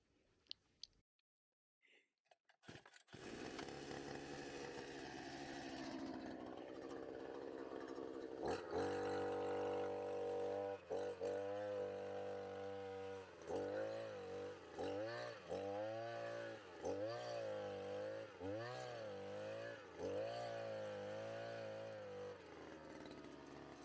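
A motorized earth auger digs a planting hole in soil for a grapevine. After a few starting knocks the engine catches and runs loud and close, its drone rising and dipping as the bit bites into the ground.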